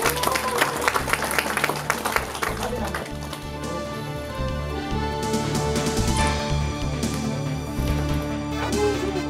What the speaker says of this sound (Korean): 박수해주십니다.